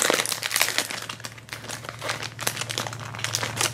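Crinkly plastic of an LOL Surprise Fashion Tags jewelry blind bag being opened by hand, close and bursty crumpling with uneven pauses.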